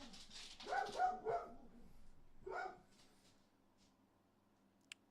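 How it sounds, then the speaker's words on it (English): Dogs at home bark in a quick run of excited yaps, then give one more short bark after a pause, fairly near and with no talking over them. "Dogs are freaking out."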